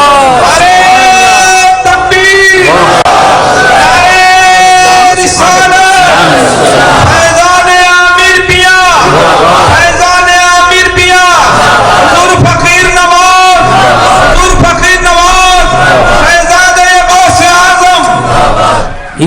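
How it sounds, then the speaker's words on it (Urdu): Large religious gathering at a milad, crowd chanting slogans in loud rhythmic unison, repeated call-and-response bursts filling the space continuously. "یہ نعرے بازوں کی جو ہے نا آدھی تقریر کا وقت یہ لے لیتے ہیں"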